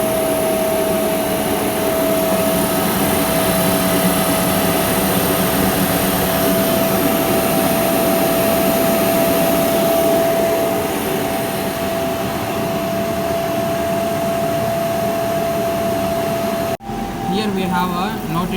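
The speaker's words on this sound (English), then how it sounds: "Now again we are going to increase the load on DC series motor." A DC series motor on a load test rig runs with a loud, steady whine and broadband hum as the load is raised, unchanging for most of the time before a brief break and a shift in sound near the end.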